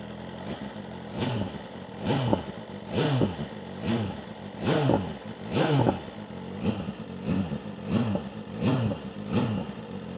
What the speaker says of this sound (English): We'll do a couple revs here real quick.